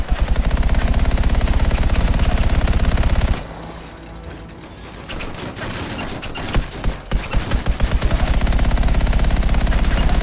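Automatic gunfire in the video game Anthem, rapid rhythmic bursts at close range, loud and sustained, then a pause with scattered impacts before another burst resumes.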